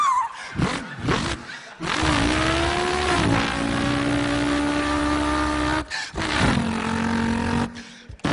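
Voice imitating a revving V8 car engine, with long throaty roars that rise and fall in pitch, broken by short bursts of breath and a pause before a second rev.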